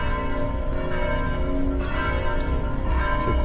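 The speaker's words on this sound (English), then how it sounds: "You can hear the church bells." Church bells ring out over a side street in Riga, Latvia, a sustained resonant peal with layered tones hanging steadily over the street ambience.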